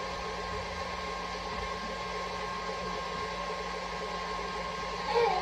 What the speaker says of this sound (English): It's really nice to have a mixer when you're doing this.